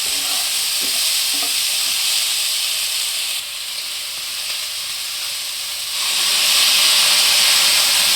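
Water poured into a pan of sizzling dal with pumpkin and potato sets off a loud, bright hiss and crackle of frying and steam that swells toward the end, with no voices.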